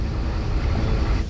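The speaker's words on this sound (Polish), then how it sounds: "Na powierzchni ożywa silnik dieslowski." A World War II submarine's diesel engine runs on the surface, giving a steady, loud, low rumbling drone with no pauses throughout.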